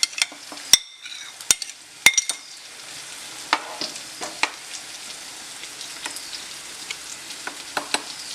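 Half a kilo of mackerel, cut into two-piece chunks, goes into bubbling coconut curry gravy for a Kerala-style fish curry, with sharp clinks and clatters at first, then scattered soft pops and sizzles over a quiet simmer, without speech.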